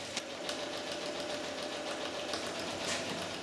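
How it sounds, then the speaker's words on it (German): A sewing machine stitching two pieces of fraying fabric together along an iron-on interfacing strip, a continuous fast mechanical whir with a rapid rhythmic pulse, close and steady throughout. "legen wir die beiden Schnittteile rechts auf rechts aufeinander und nähen sie zusammen auf dem Bügeleinlagestreifen"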